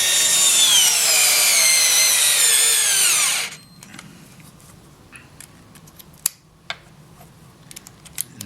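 A cordless screwdriver, DeWalt DCF680 or Hitachi DB3DL, drives a short fat-shank drywall screw into wood with a loud rising whine for about three seconds, then stops, followed by light scattered clicks and taps.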